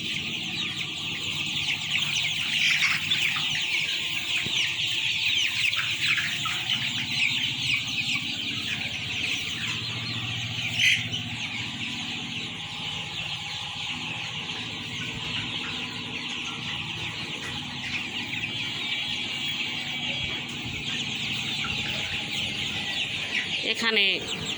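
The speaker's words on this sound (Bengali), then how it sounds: "দেখতে পাচ্ছেন আমার মুরগি।" A flock of about 1,550 chickens on a poultry farm with dry litter fills the air with a dense, overlapping chorus of clucks and chatter, continuous and close, with occasional louder individual calls.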